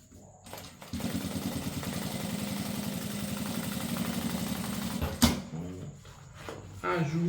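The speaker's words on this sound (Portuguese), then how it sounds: "Vamos ir ajustando e costurando." Sewing machine stitching a seam on a small bag with a clear plastic window, running in a steady rapid whir for about four seconds, then stopping, with a clunk and brief handling noises after.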